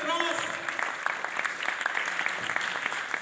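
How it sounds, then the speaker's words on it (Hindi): Studio audience applause at a Pakistani quiz show final, a steady dense patter of many hands clapping that carries on without a break, with a voice briefly audible behind it. "तालियां रुकनी नहीं चाहिए"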